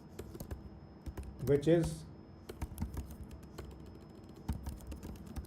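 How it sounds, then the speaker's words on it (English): Soft, quick clicks of typing on a computer keyboard run throughout, quiet and close, with a voice briefly speaking over them. "here I'm just typing account"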